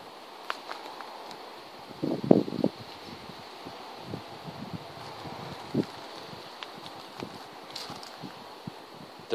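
Wind gusting through bean plants climbing poles on an outdoor allotment, a soft continuous rustle with occasional louder flutters and buffets against the microphone.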